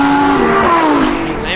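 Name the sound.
Lamborghini Huracan V10 engine screaming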